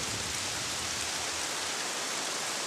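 Steady rain pours down outdoors, a dense, even hiss of falling drops that holds without a break for the whole stretch, with no voices over it.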